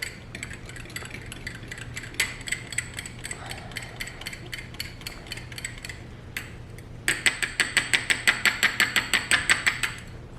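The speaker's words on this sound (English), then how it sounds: "I'm just going to use a whisk and stir this all together really" Metal whisk stirring an oil base for skincare in a bowl, a steady run of rapid rhythmic clicks and scrapes that grows louder and more regular toward the end over a low hum.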